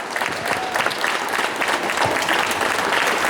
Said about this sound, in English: keep that applause for Linda Blair.